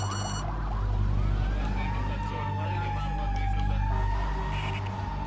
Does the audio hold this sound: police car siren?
yes